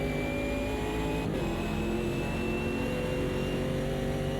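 Race car engine held at full throttle in the racing simulator Automobilista 2, a steady high-pitched whine climbing slowly in pitch, loud and continuous with no pauses.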